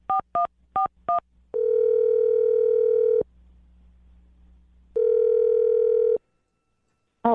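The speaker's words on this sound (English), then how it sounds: "I'm going to dial her phone number right now" Four short touch-tone beeps, then a steady dial tone that stops, a quiet pause, another stretch of tone, and a brief blip at the end.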